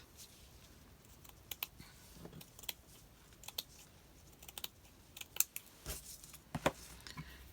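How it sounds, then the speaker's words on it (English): Fabric scissors cutting lace for a craft tag, a series of sharp, sparse snips and clicks at irregular intervals in an otherwise quiet room. "I need my fabric scissors"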